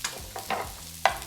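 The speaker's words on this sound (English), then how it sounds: "We're gonna add our onion straight into there." Chopped onion dropped into hot oil in a pan while making chicken bolognese gives sharp, brief bursts of close sizzling and stirring, with a strong crackle near the end and no talk.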